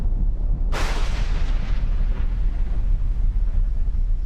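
A deep, distant rumble erupts suddenly and keeps rolling on like faraway thunder, steady and heavy with no voices over it.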